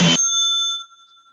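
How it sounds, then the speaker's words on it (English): A meditation bell struck once during a Buddhist ancestor practice, a clear bright strike followed by a pure ringing tone that fades over about a second, heard alone. "On the second sound of the bell, we'll go ahead and bow to the community."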